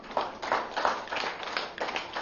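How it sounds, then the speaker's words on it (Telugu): An audience at a meditation gathering for a pyramid anniversary celebration claps together in a steady, moderately loud round of applause that lasts the whole moment. "ఒకసారి చప్పట్లు కొట్టండి"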